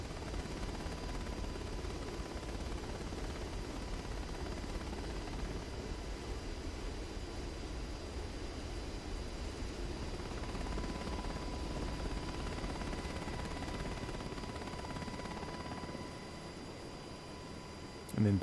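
A Blackhawk helicopter in a flight simulator game, its rotor and engine a steady dense roar throughout, droning evenly with little variation before fading slightly near the end.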